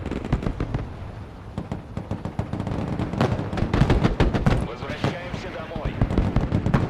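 Artillery in the game Broken Arrow fires a rapid, irregular series of sharp booms and cracks, dense and close, with a voice speaking over part of the barrage.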